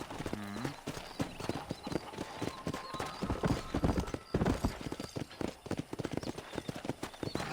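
Horse hooves clip-clop steadily in the Red Dead Redemption video game while cattle are being herded, a brisk, close rhythm with an occasional whinny and faint background sounds.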